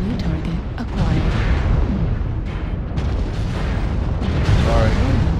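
Missile explosions and booming weapon fire in the MechWarrior Online mech combat game, a dense continuous barrage of rumbling blasts with voices talking over it.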